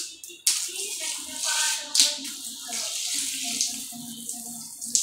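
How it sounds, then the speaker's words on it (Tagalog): Hot water gushes steadily from a newly installed shower connected to a water heater, a close, continuous broadband rush with a sudden onset and brief interruptions, while someone speaks over it. "Kasi mainit yung tubig na binubuga."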